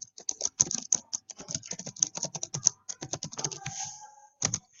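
Rapid, uneven clacking of keys on a computer keyboard while a question is typed into an online form, close and fairly quiet with brief pauses between bursts.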